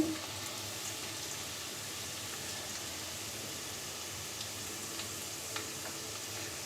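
Dried red chillies, torn in half, frying in oil for an olive pickle produce a soft, even sizzle with occasional faint pops, low in level and steady throughout.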